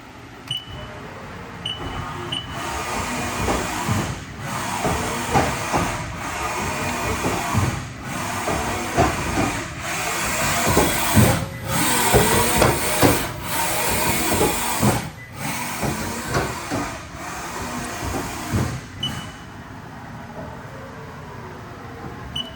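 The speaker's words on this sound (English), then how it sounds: "This is a 2016 Haas VF-3SS." A 2016 Haas VF-3SS CNC vertical machining center runs with a busy mix of hissing, whirring and clattering machine noise, broken by repeated brief near-silent pauses, close and steady for over twenty seconds.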